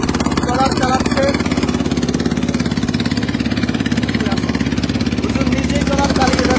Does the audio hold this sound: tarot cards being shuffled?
no